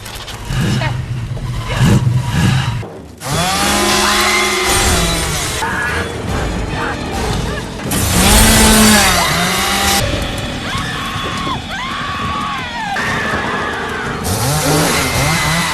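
Car engine starting and revving during a chase in a Texas Chainsaw Massacre horror film, loud rising and falling engine roars mixed with screams, tire noise and a dense film soundtrack.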